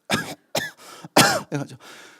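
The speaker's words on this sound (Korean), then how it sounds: "둘째 애가 갑자기 안 하던 기침을 해요." A child coughs several times in short bursts, with brief pauses between, close and fairly loud.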